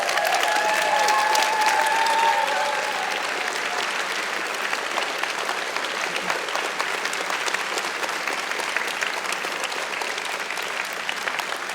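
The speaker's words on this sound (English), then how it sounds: "why don't you guys come to your feet and give them a round of applause for putting in the effort for this" Sustained applause from a standing conference audience honoring the event staff at Skepticon 5, dense and steady for about twelve seconds, loudest at the start with a few cheers before settling into even clapping.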